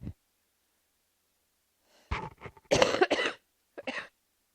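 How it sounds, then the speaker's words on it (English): Several dry, close coughs from a teacher in a quiet classroom come in two short bursts, with a throat-clearing quality and near silence between them. "Sorry about all my coughing."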